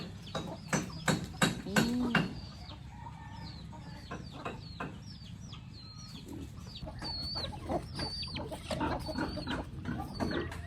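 Free-range domestic chickens cluck and chirp softly around rice being scattered for them, with scattered high peeps over a low rustling background and a few nearby voices.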